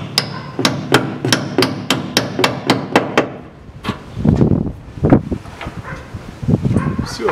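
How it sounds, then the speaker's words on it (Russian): A stopper being hammered into place on the brake line of a 2006 Hyundai Porter, about a dozen sharp, evenly spaced metallic taps, followed by a dog whimpering and yipping nearby. "Здесь вот паз заводим и забиваем"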